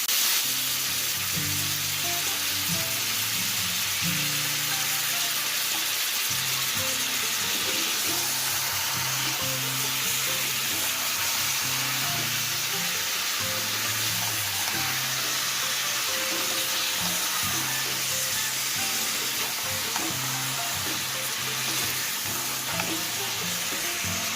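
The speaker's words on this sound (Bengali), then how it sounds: "জাস্ট নর্মাল চিকেনের টুকরোগুলো এই তেলের মধ্যে পেঁয়াজ ভাজার মধ্যেই দিয়ে দেবো" Plain unmarinated chicken pieces frying in oil with fried onions, a steady dense sizzle throughout with occasional low clatter from stirring, close and continuous, no talk.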